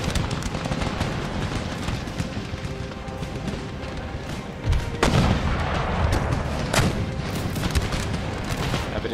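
Battlefield gunfire and mortar artillery in Empire: Total War, a steady roar of musketry and distant thuds with a heavier boom near the middle.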